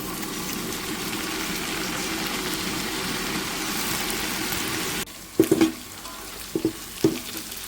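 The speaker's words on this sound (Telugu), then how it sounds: "కూరగాయ ముక్కలన్నీ చూడండి ఎంత మంచిగా ఫ్రై అయినాయో" Vegetable pieces frying in a pan, browned with fresh mint nearby, give a steady broad sizzle for about five seconds, then it drops off, leaving a few sharp utensil clinks and scrapes against a quieter background.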